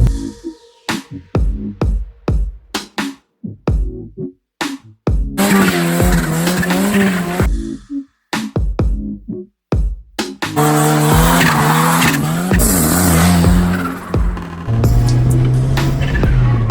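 A D15 Honda Civic hatchback running a compound turbo setup with a small Saab turbo and a giant HX55 revs in sharp bursts, then accelerates hard with loud, sustained tire squeal and skidding.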